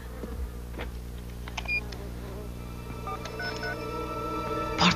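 A swarm of killer bees in a 1995 film drones with a steady buzzing hum, with scattered higher tonal blips and a swelling at the end.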